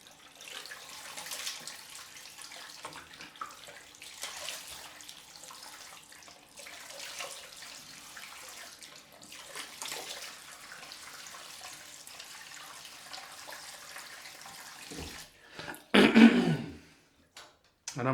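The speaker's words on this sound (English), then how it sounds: "let's just do a quick warm water rinse." Warm water running from a tap for rinsing an Edwin Jagger DE89 safety razor, a soft steady splashing stream with fluctuating gushes, a throat clear and louder splash near the end.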